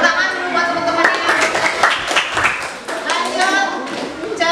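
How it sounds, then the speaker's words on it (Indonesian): Students in an Indonesian classroom clap their hands for classmates during a teaching practice lesson, a lively, close burst of clapping that runs the whole time, mixed with children's voices and chatter. "Tepuk tangan dulu buat teman-teman ini."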